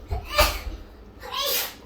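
A short, sharp sneeze bursts out near the mic, followed a moment later by a second breathy burst, with faint background hum.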